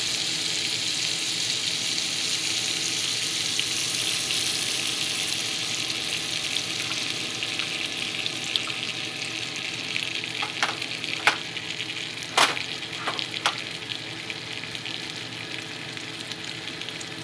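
Oil and butter sizzle steadily in a pan during the frying of eggplant for baingan bharta, a continuous crackling hiss with a few sharper pops and stirring scrapes near the end, and no talking.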